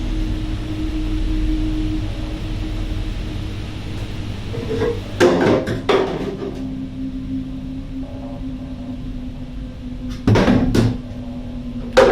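A door creaks and knocks open on its own in a reported ghost recording, with two brief clusters of clattering, thudding sounds standing out against a steady background hum.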